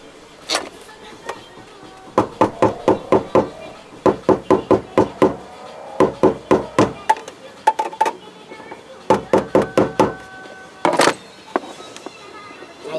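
Sharp metallic hammer strikes ring out during a fuel pump replacement on a 2008 Honda Ridgeline, landing in quick bursts of several hits with short pauses between groups, loud and close.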